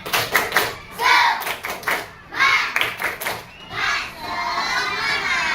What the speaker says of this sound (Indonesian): Oke, anak Ibu, tepuk semangat.